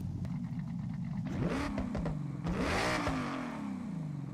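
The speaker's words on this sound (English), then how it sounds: "A little raspy, but it sounds like a racing V8 now." A Ford Coyote V8 fitted with an aftermarket exhaust in the Forza Horizon 6 racing game revs up and down in loud, raspy sweeps, close and steady, with no voices.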